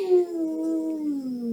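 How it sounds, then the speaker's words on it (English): A sleeping dog howls during a dream, giving one long, thin, wavering howl that slowly falls in pitch. It is fairly close and heard alone, with no talk over it. "I've never heard her howl like that."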